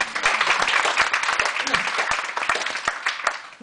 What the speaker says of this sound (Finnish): Antaas tässä kohtaa heille kollektiiviset aplodit.